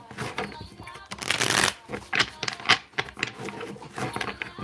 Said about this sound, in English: I'm shuffling on camera too